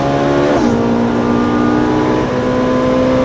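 Ferrari 458 Italia on a race circuit, its engine revving hard as it accelerates, a quick gearshift briefly dropping the pitch before the rising tone climbs again, loud and close, with no voices.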